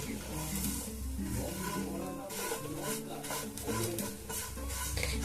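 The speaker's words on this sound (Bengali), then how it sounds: "আমি প্রথমে একটুখানি ঘি আর রিফাইন তেল দুটো মিশিয়ে করলাম একটু ভেজে নিচ্ছি" Quiet sizzle of vermicelli frying in a mix of ghee and refined oil, with stirring scrapes in the pan and a voice talking over it throughout.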